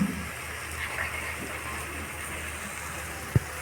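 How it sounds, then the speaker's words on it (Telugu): Water is added to an ivy gourd masala curry in a pan, a soft continuous gushing pour that stays low and even throughout, with a brief knock near the end. "ఇప్పుడు కొంచెం వాటర్ యాడ్ చేసుకుందాం మనం అందులో."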